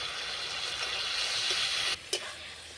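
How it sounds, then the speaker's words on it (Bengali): Spices for chilli soybean fry in a hot pan with a loud, continuous sizzle and hiss close by, briefly cut by a stirring scrape near the end. "দিয়ে আমি আবারও ভালো করে নাড়িয়ে নিব"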